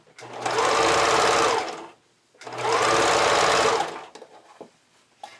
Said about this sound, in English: pull on the elastic as you zigzag stitch it on